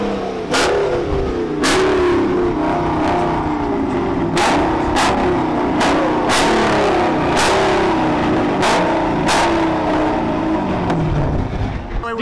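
Jeep engine revving up close in repeated loud bursts, each sweep climbing and falling with sharp throttle stabs, filling the whole stretch.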